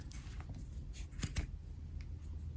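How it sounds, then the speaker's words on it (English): A couple of quick, crisp scissor snips trimming quilted fabric corners close by over faint background rustling, short and quiet. "I'm just going to snip off a little bit of the corners just to reduce bulk"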